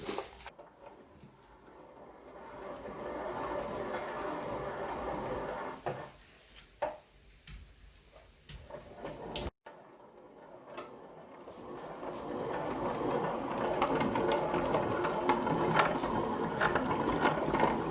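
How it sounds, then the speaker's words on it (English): A grinder whirs and rattles as it grinds sifted spice residue finer for traditional Jamaican curry powder, running in mechanical spells with a brief stop midway, then a louder, steady grinding churn. "gonna grind this one to get it a little finer for the processing"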